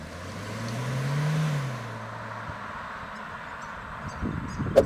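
A 2023 Suzuki S-Cross with all-wheel drive accelerating hard, its engine note rising steadily then easing off, heard from inside at moderate level with no talking.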